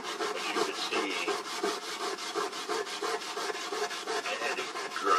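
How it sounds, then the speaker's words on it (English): Metal part of a 1939 Art Deco clock ground or filed by hand during restoration, a steady back-and-forth rasp of about four strokes per second, loud and close, with no voices. "I had to grind some of this away."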